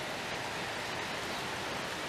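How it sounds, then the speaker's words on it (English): Heavy rain pours down in a dense, continuous wash of hiss with no breaks, steady and fairly faint, and no voices heard. "It is pouring so hard"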